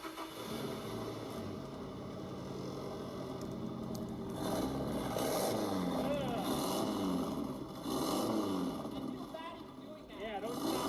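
SR20 car engine running roughly, idling with an uneven, lumpy misfire as if on three cylinders, a continuous close rumble with people talking over it.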